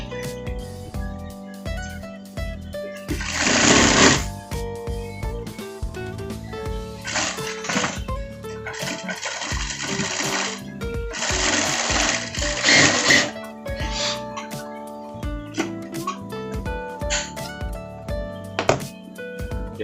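A sewing machine stitching the front pocket of a parka jacket, running in several loud bursts of rapid whirring stitches separated by brief pauses and handling thumps, close up with no talking.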